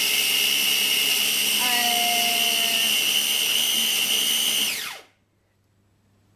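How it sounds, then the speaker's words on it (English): A small food processor whizzes cooked quinoa for a pizza crust, a loud, steady high whir lasting about five seconds before the motor winds down and stops, leaving near silence. "I'm gonna whiz this up now."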